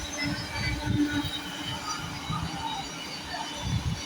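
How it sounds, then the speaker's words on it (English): A Freightliner Class 66 freight train passes at South Kenton with a steady rumbling roar of wagons and wheels on rail, fairly close and continuous for the whole stretch, with no talk. "Here comes a Freightliner 66 to Southampton, I think."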